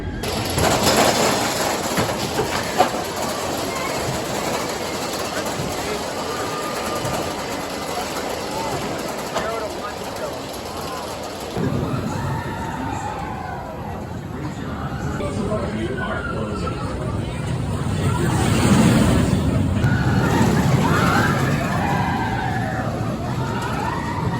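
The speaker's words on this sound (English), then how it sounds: "So let's go ride a 2014 RMC topper track wooden coaster" A ride on a 2014 RMC topper track wooden roller coaster, with loud continuous rumbling and roaring wind rushing over the track, shifting in pitch as the train climbs and dives, while riders shout and scream throughout.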